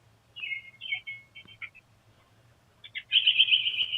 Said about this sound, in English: when the actual camera picks up motion, you'll notice that it does pick up audio and there are some birds